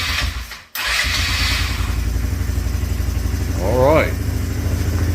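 A restored 150cc ATV quad with a new carburetor cranks and catches about a second in, then settles into a steady, close, slightly clattery idle. Someone speaks briefly over it.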